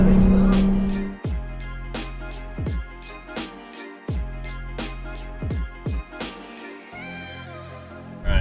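A Toyota Tacoma truck engine runs with a steady low rumble, broken by repeated sharp knocks and brief surges; near and fairly loud, with no talk over it.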